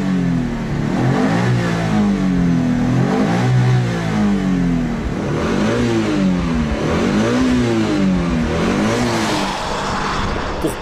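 A Subaru Impreza WRX STI turbo engine revving hard and close, with repeated rising and falling rev sweeps through gear changes, loud and continuous without talk.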